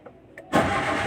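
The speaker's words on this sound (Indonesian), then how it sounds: "Nah kita coba starter ya" A Kia Picanto engine is cranked by its starter and catches, settling into a steady, loud idle right after a few brief clicks and a short whir.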